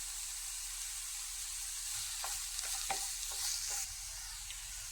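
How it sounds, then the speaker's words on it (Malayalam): An egg mixture seasoned with salt, pepper and garam masala sautéed in a pan, a steady bright sizzle with a few scraping stirs of a spoon near the end, close and continuous. "എന്നിട്ട് ഇതെല്ലാം കൂടി നന്നായിട്ടൊന്ന് വഴറ്റി കൊടുക്കാം"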